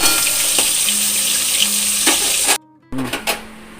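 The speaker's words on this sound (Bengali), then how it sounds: "এবার মাছটাকে আমি ভালো করে ফ্রাই করে নেব" Pieces of katla fish head fry in hot oil with a loud, continuous sizzle that drops out abruptly near the end, then returns with a few splutters and pan knocks.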